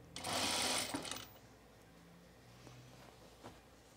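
A vintage sewing machine stitches a blouse seam in a short, loud, buzzing run of about a second, then stops, leaving quiet room noise with faint handling sounds.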